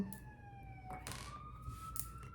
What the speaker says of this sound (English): you guys hear the ambulance truck?